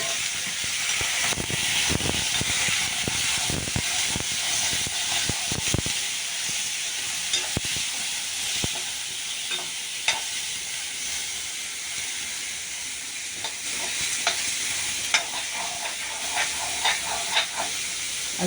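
Vegetables and Malabar cucumber sautéing in a pan for Kerala sadhya sambar, a steady close sizzle and hiss with scattered scrapes and clicks of stirring throughout, no talking.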